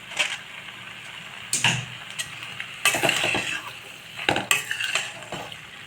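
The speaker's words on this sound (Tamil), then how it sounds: "இந்த பாஸ்தாவை இதில் சேர்த்துடலாம் நல்லா வெந்துருச்சு" Cooked, drained pasta stirred in a pan with a utensil: irregular scraping and clinking strokes in bursts over a soft background sizzle, close and moderately loud.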